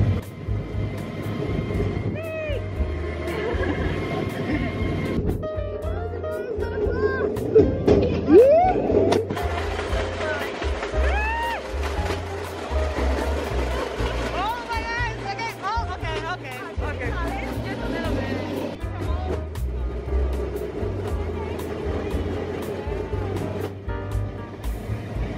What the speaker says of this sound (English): We're on the rail bikes.